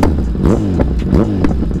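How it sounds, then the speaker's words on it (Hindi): A motorcycle engine revs loudly and close, with a rough, continuous mechanical roar that rises and falls across a couple of throttle blips. "आतंक भाई, इतने दिनों के बाद आज अपनी बाइक निकाली है ना"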